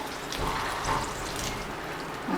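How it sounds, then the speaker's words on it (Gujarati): A glass of water poured into a cooking pot of spinach khichdi, a continuous splashing pour close by with no talking over it. "એક ગ્લાસ જેટલું આપણે પાણી એડ કરી દઈશું અંદર"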